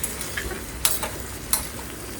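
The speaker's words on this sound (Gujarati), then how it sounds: "અને આ રીતે ચમચી વડે ચલાવી લેવાનું" A spoon scrapes and clinks a few times through ivy gourd (parval) curry cooking in ghee over a low flame, soft sizzling underneath, brief and close, no voices.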